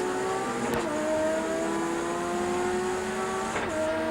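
Touring race cars on the run down to the first corner at Phillip Island in the 1990 ATCC roar past loudly, engines howling steadily as they accelerate, with brief sweeps as cars go by.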